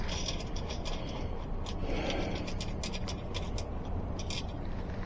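A crescent wrench works on the motor axle of a 20x3-inch fat-tire e-bike. It gives a continuous close metallic ratcheting and clicking with scattered sharper ticks over a dense mechanical rustle, and there is no talking.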